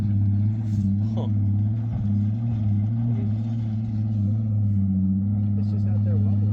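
Jeep Gladiator truck idling on a gun range hill in New Mexico, its engine rumbling steadily while loose decking in the bed rattles intermittently; voices are heard faintly over it.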